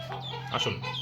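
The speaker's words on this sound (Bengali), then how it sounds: "এই মোরগ মুরগি ডাকাডাকি শুরু করতে," Native village chickens, rooster and hens, clucking and calling close by in a short burst at feeding time, with a brief spoken word over them.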